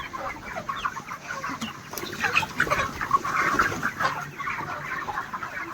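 Chickens in a poultry shed on a hot afternoon, with a dense, continuous chorus of clucking and squawking from many birds close by. No one speaks.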